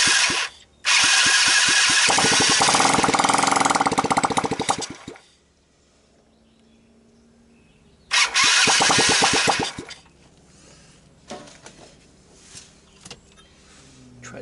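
A small ATV or pit bike engine fires on starting fluid, roaring loudly for about five seconds before dying, then briefly catching and revving again, with quieter mechanical noise trailing off afterward.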